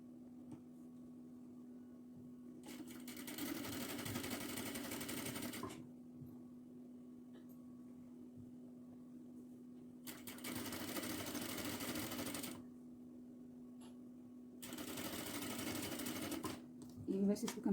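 A sewing machine stitches along an ironed crease in a cotton kurti in three distinct bursts of rapid whirring, separated by pauses filled with a low electrical hum.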